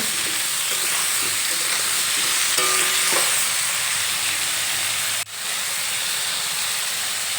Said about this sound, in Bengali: লবণ দিয়ে একটু নেড়ে চেড়ে নেব।